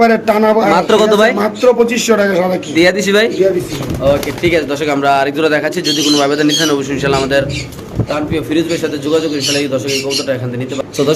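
White King pigeons coo in repeated throaty, rolling calls, close and fairly loud, layered over a person speaking throughout.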